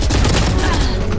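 Gunfire from the tactical shooter game Valorant, dense overlapping shots in a loud, continuous burst that fills the brief moment.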